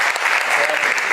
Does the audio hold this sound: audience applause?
yes